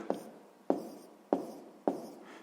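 A pen writing out a math solution on paper, four crisp strokes at a steady rhythm, each a sharp scratch that quickly fades, close and quiet.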